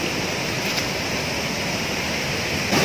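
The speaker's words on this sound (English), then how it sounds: "In Lixin Resort, there's like a waterfall." Continuous rushing water roars steadily, a dense broadband hiss like a nearby waterfall at a resort in Samar, Philippines, with no voices.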